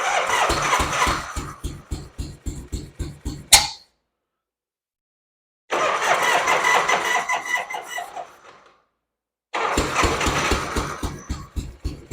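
A 1965 Harley-Davidson FL Panhead motorcycle, run with no fuel tank and a drained fuel system, cranks and catches in three loud close bursts of rapid popping firing, each cutting out abruptly into silence.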